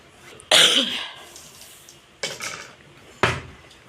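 Three separate coughs, one loud and two slightly softer, spaced apart over a few seconds in a quiet room with faint clinks.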